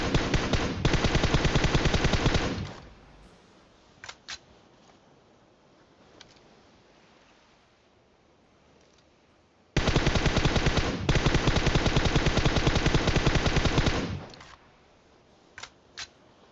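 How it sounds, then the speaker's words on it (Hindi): Automatic gunfire in PUBG Mobile, two long loud sustained bursts of rapid shots separated by a quieter gap with a few isolated single shots, no talking. "जितनी गोली चलानी थी सारी चला दी, बहुत डैमेज दिया"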